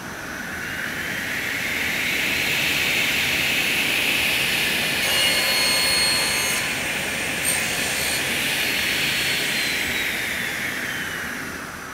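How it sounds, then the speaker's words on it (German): A Martin sliding table panel saw cuts a wooden panel to length, its blade spinning with a loud, steady high whine that holds for the whole cut before easing off at the end, with no talk. "und schalte die Maschine an und säge."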